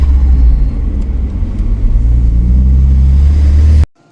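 The engine of a second-generation Mitsubishi Eclipse project car drones loudly and close at steady revs, a deep rumbling hum that holds for several seconds before cutting off abruptly.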